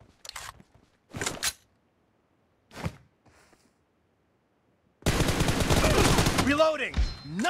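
Gunfire in the mobile shooter PUBG Mobile during a one-versus-one team deathmatch: three short sharp bursts spaced apart, then a loud, dense, sustained automatic-fire barrage that continues to the end.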